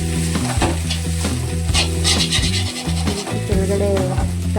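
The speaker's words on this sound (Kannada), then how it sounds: "ಅಲ್ಲಿವರೆಗೂ ಫ್ರೈ ಮಾಡಬೇಕು" Egg bhurji frying in a pan while being stirred, a steady close sizzle broken by repeated scraping and clinking of the spatula against the pan, loud and continuous with no talk.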